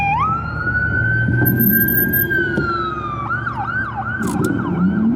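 An ambulance siren holds a long rising wail, then switches to a fast, repeating yelp pattern, loud and close.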